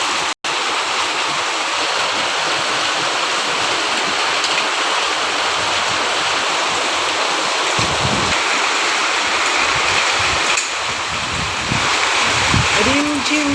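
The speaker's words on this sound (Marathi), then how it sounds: "रिमझिम बरसल्या पाऊस धारा" Monsoon rain pours steadily in the Konkan countryside, a dense, loud, unbroken wash of falling water that continues throughout, with a voice briefly audible near the end.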